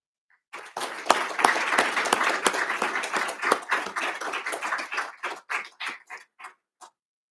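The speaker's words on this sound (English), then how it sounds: "So please join me in applauding Staff Sergeant Mendenhall for his courage and dedication" An audience at a military awards ceremony claps after an honoree is introduced, starting abruptly into dense applause that thins to a few scattered, distinct claps before stopping.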